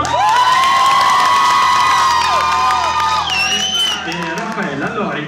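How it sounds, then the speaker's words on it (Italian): Live concert crowd at a club show cheers, whoops and shouts loudly over steady applause, with high excited voices rising above the clapping throughout. "Facciamo anche un applauso"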